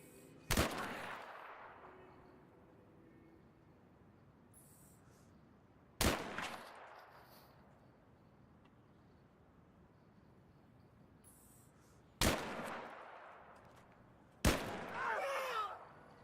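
Loud, sharp gunshots in the PS3 game Battlefield 3, four widely spaced single blasts, each followed by a long decaying echo, over a faint ambient background.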